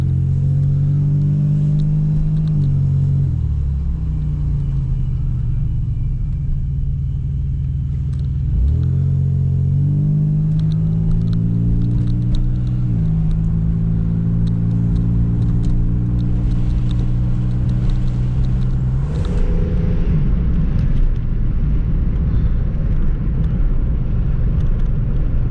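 Car with freshly bled brakes driving on a quiet road, engine rising and falling through gear changes with steady road rumble, close and continuous.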